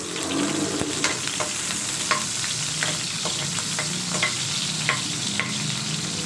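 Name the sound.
onion sautéing in a hot pan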